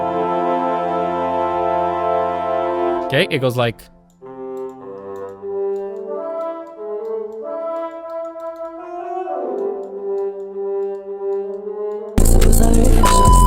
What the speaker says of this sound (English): we kind of need those 24 woodwinds.